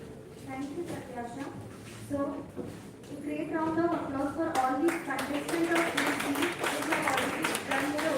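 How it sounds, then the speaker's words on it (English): Audience applause for contestants at a national-level oratory contest: scattered clapping that builds into steadier applause, heard under a person talking throughout. "So, a great round of applause for all these contestants."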